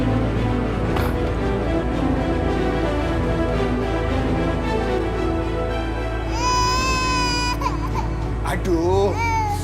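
Infant crying loudly and steadily, rising into sharp high wails near the end over a constant background.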